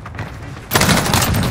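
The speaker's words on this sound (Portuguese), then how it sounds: "Eles estão atirando em mim!" Gunfire in the video game Call of Duty: Warzone, a loud, sudden burst of rapid automatic shots that cuts in partway through and keeps rattling over the game's background noise.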